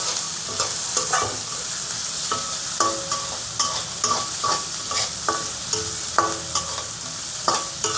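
Vegetables stir-frying for vegetable fried rice, a loud close sizzle with rapid regular scraping and tossing strokes of a spatula in the pan, steady rhythm throughout, no talking.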